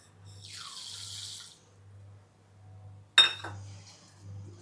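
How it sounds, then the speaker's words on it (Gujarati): Water is poured over about a hundred grams of fenugreek seeds in a kitchen to soak them: a steady splashing pour of about a second, then a sharp clink of the container, over a low background hum. "આ એનું મેથી પલાળવાની તૈયારી કરું છું હા હા પાણી લીધું છે"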